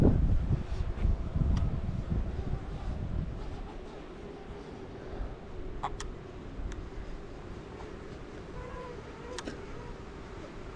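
Wind blows outdoors in thinned woodland, buffeting the microphone with a heavy low rumble that is strongest at the start and then settles into a steadier, quieter roar.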